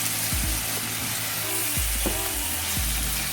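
Chicken and masala roast in a karahi with garlic and ginger, giving a steady close sizzle and fry broken by a few soft stirring scrapes.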